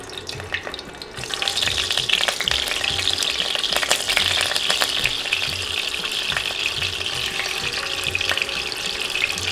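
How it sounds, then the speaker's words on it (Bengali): Eggs fry in hot oil in a pan over a medium-high flame, a loud continuous sizzle and bubbling spatter that starts just after a quieter moment and keeps going, no talking. "তেল গরম হয়ে এলে সবগুলো ডিম দিয়ে দিচ্ছি"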